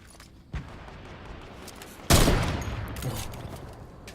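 Gunfire in Fortnite: a single sharp shot, then a louder burst that booms and rolls into a decaying rumble, with faint further pops after it and no voices.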